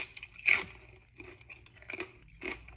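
Crunchy chewing of steak topped with cream cheese, a few sharp crisp bites near the microphone with quieter chewing between them and no talking.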